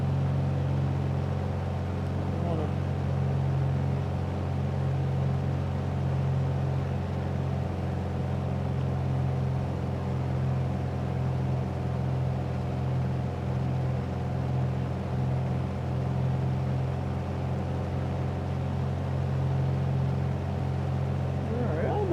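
A steady, droning aircraft engine hums at reduced throttle in Microsoft Flight Simulator, flying a pattern over runway 32 at KMSN; the even, continuous tone holds throughout with no other sounds.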